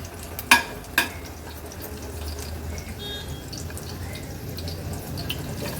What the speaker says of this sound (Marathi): लसूण तेलावर थोडंसं असं न परतून घ्यायचंय।